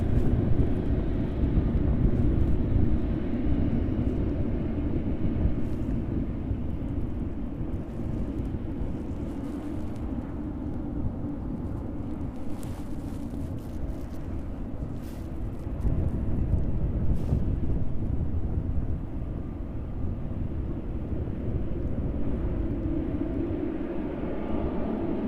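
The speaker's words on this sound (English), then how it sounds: "Safely touching down into East Midlands then after a flight time of 7 hours and 5 minutes. The DHL 777." DHL Boeing 777 landing at East Midlands Airport, a loud, continuous low jet roar with rushing air and wind buffeting that stays heavy throughout.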